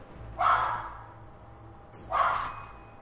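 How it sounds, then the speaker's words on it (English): A dog gives two separate barks about a second and a half apart, close and fairly loud, with a low steady hum underneath. "Interrupting dog."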